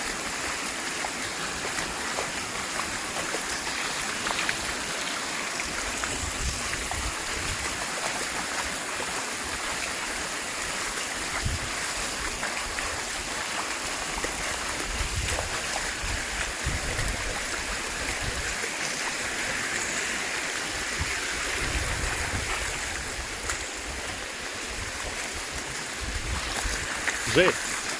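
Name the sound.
floodwater flowing through streets after a storm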